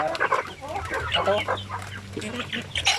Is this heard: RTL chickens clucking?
yes